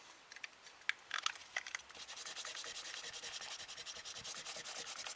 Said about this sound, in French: Je vais juste gommer.